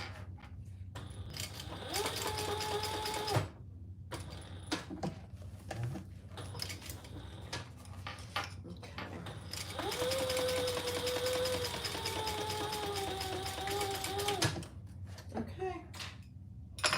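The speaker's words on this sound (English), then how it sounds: "This ostrich vinyl from Simply Classic is really a dream to sew with." A sewing machine stitching ostrich-textured vinyl, running in two long steady whirring stretches with a brief pause between, close and moderately loud while a person talks faintly over it.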